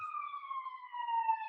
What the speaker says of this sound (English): Sirens? Really? I don't know if you can hear that, but I'll let them pass.